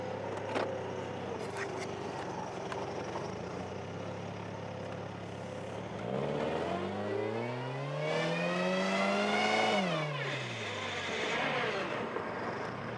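A Toyota FRS fitted with a custom twin supercharger install drives off, its engine note climbing and rising in pitch as it accelerates, with a strong whine, then dropping back after a shift, heard moderately close with no talking.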